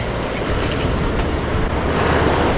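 Waves washing ashore at North Clearwater Beach, Florida, a continuous loud roar of surf mixed with wind buffeting the microphone, close by and without talking.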